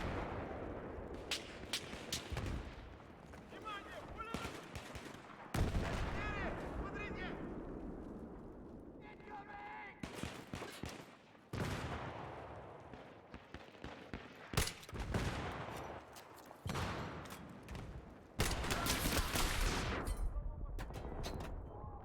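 First-person shooter gameplay with bursts of gunfire and explosive blasts coming in loud clusters separated by quieter stretches, while players talk throughout.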